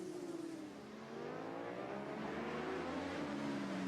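Racing motorcycles in a British Superbike race at Cadwell Park, engines droning steadily and rising in pitch as the bikes pass, a continuous loud roar with no talk over it.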